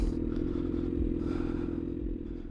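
A 2008 Honda CBR1000RR street-fighter motorcycle idling as it pulls over into a shaded spot, a steady low engine rumble with light clattering, fairly loud and constant before easing slightly at the end.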